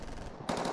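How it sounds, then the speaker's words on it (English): Gunfire in an audio drama, a burst of rapid shots breaking out after a steadier background, close and loud with a sustained rattling quality. "Those are gunshots,"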